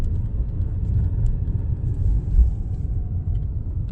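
A car driving on a 30 mph road during a driving test route in Morden, heard from inside as a steady low engine and road rumble while speed builds gently, loud and continuous.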